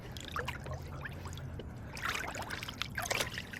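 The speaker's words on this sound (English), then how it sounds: "throw it in our bucket of water" Water sloshing and trickling in a bucket as a polishing pad is rinsed, with uneven splashing bursts close by.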